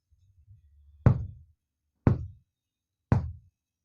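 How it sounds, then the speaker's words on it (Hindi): Knocking on a door as a horror sound effect: three loud, sharp knocks about a second apart, preceded by a low rumble and followed by silence, close and alone. "कुछ देर बाद फिर से दस्तक हुई, इस बार थोड़ी ज्यादा तेज।"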